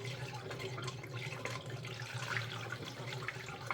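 Air bubbles gurgle through the cooling system of a 2013 Opel Zafira B as it purges after a thermostat change, heard as a steady close watery bubbling and trickling with no talking over it.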